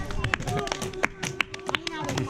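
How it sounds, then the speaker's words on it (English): Schoolchildren in an elementary school classroom in Sierra Leone clap for a classmate, a scattered burst of quick, uneven claps close by with young voices chattering and calling out over them. "let's clap for her"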